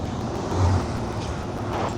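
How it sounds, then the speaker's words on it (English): Steady wash of street traffic at the Ocean Avenue and Broadway intersection in Santa Monica, a continuous low roar of passing cars with a slight swell midway, no voices over it. "let me speed up the traffic and then we'll start to cross the street."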